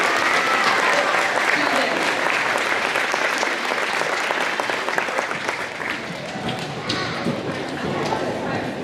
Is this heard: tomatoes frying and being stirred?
no